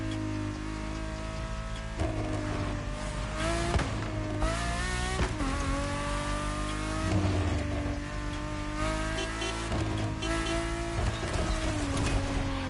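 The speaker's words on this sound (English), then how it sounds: "let's go put some miles on this car" A car in The Crew Motorfest racing game drives under a loud, droning engine note that climbs in pitch, then drops at each gear shift, repeating through several rev-and-shift cycles.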